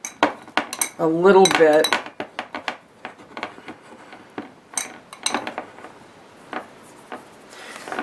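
Epsom salts are mixed in a container, producing scraping, clinking taps and gritty rubbing strokes in uneven bursts, with a voice speaking briefly near the start.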